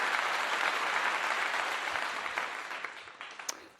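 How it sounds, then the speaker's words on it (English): An audience at an orthodontic awards show applauds as presenters are welcomed on stage, a sustained crowd clapping that gradually tapers off. "Let's give a little applause for them."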